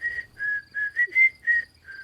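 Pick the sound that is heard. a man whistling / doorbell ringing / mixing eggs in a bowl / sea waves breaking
a man whistling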